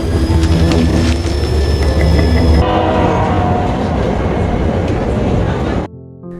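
In a film scene, a train rumbles loudly and steadily with a sustained horn blast. The sound changes partway through, then cuts off abruptly near the end.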